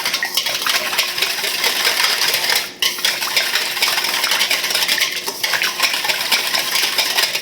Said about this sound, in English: Let's bring in a whisk